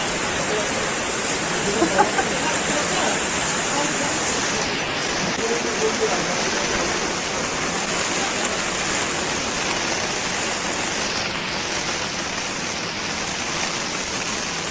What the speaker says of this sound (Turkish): Ama hızlı yağıyor.